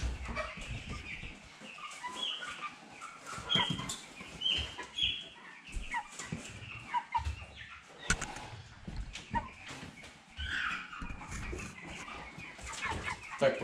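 Broiler chickens kept in cages cluck and call in scattered bursts, with occasional wing flaps and rustling in a farm setting.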